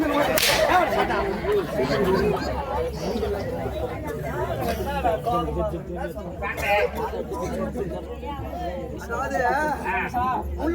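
Sharp whip cracks snap repeatedly over a lively, noisy crowd at a Tamil folk drama performance, with chatter and shouting throughout.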